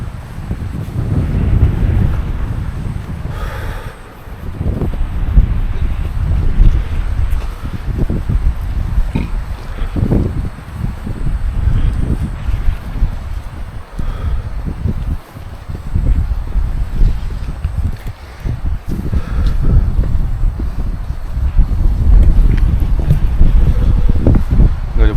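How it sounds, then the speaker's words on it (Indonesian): Strong wind roars across the summit of Mount Butik, a 1,250-metre Indonesian peak. It is a loud, continuous low buffeting that batters the microphone and swells and dips in gusts throughout. "Sumpah anginnya kenceng banget."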